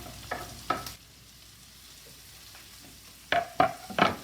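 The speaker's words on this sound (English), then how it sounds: "We're going to put our garlic in now." Garlic frying in a pan for country captain chicken gives a low, quiet sizzle under a few sharp scraping stirs. The stirs come in two bursts, near the start and again near the end.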